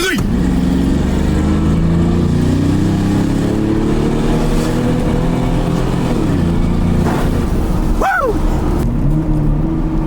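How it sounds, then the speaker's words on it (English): A V8-swapped Jaguar revs hard and steadily during a burnout, a loud, sustained engine roar that dips and swells near the end while a voice whoops over it. "That was a really disappointing burnout."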